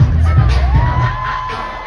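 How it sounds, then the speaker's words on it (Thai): A Pride parade crowd on a Korean city street roars, cheers and chants along to aespa's Supernova, with a dense, loud wall of voices, whoops and shouts throughout and a rising pitched call threading through the noise. "มีเพลงซูเปอร์โนวาที่ตะโกนอะโอเอกันแบบทั้งเมืองของจริง"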